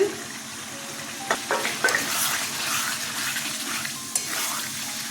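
Potatoes are dropped into hot oil for jackfruit-seed dhoka, giving a few sharp splashy hits, then a bubbling sizzle that rises and lingers at moderate volume.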